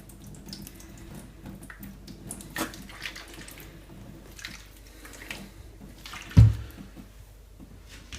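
Running water washing soy sauce off a shoe: a soft, steady splash and trickle near a tap, with a louder thud and splash toward the end.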